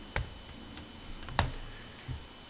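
Three crisp single keystrokes on a computer keyboard, spaced irregularly and heard up close in an otherwise quiet room.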